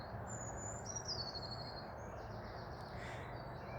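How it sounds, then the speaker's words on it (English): Birds calling outdoors, a crow-like caw and thin chirps rising over a steady, continuous background hiss, fairly faint and with no talking. "But those tweeting of the birds,"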